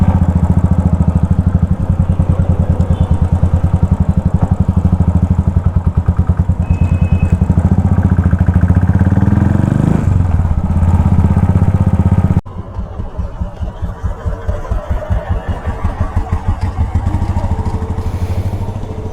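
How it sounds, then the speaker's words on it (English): A custom-built motorcycle with a loud aftermarket exhaust idles and revs close by. The engine throbs steadily, swells, then drops to a rougher, lumpier idle after a cut partway through. No one speaks. "the motorcycle sound is like kinda high. It's like kinda higher than the normal decibel levels."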